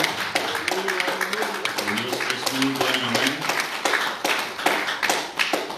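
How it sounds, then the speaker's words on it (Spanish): A church congregation claps continuously during a Spanish-language sermon, sharp hand claps repeating steadily while a voice carries over the top. "Denle un aplauso al Señor, hermano, en esta mañana."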